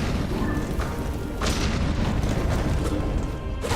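A bomb in a video game detonates at point-blank range with a dense, loud boom that fills the whole clip as a sustained roar, with a few sharper bursts and no talk.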